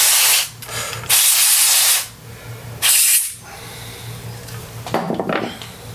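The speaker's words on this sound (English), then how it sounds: "And I think what I'm going to use to clean it is some of this contact cleaner. We'll just spray this." Contact cleaner sprays onto an iMac computer part in loud, close hissing bursts, three long blasts separated by quieter pauses, followed by some rubbing and handling noises.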